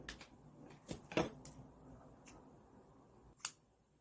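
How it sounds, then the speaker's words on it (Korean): Scissors cut a no-seam-allowance fabric pattern for a baby bib straight along the line, with a few sharp, quiet snips and clicks spaced irregularly over a soft background. "시접이 필요하지 않기 때문에 그냥 이 선 그대로 가위로 잘라주면 됩니다"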